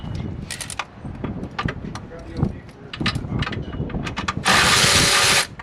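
A ratchet loosens the battery hold-down on a 2018 GMC Acadia, clicking in short bursts with small metallic knocks, close by, and a loud hiss-like burst near the end.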